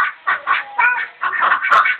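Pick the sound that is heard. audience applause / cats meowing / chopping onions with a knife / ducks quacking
ducks quacking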